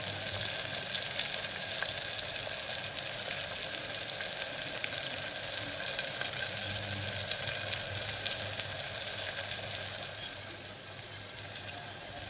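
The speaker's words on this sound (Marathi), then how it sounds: "तर ही आहे अद्रक लसणाची पेस्ट, मी टाकते याच्यात." Ginger-garlic paste frying in a pan gives a steady, close sizzle with a soft crackle that holds evenly for the whole stretch and eases slightly near the end. No voices are heard.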